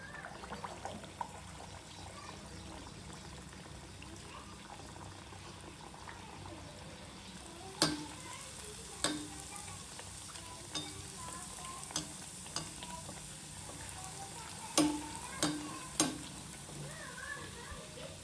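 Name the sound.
Mangalore buns deep-frying in oil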